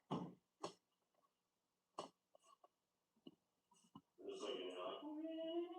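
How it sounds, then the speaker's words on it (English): A person blows their nose: a few short snuffling bursts lead into a loud, sustained honking blast with a trumpet-like tone, close up. "I gotta blow my nose."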